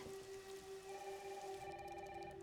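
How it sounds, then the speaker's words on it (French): Steady heavy rain hisses in the background of the video game Resident Evil Requiem alongside a sustained low tonal hum, with no voices. "il pleut vraiment des cordes"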